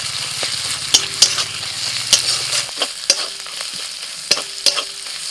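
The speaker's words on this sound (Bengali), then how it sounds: "আদা রসুন পেঁয়াজ সব ভাজা হয়ে গেছে" Onion with ginger and garlic paste frying in a pan, a steady sizzle broken by several sharp scrapes and knocks of a spoon stirring, with a low hum early on.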